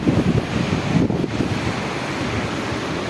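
Waterfall rushing beside the high mountain path to the Amarnath cave amid snow, a loud, continuous broadband roar mixed with wind buffeting the microphone, with no voices.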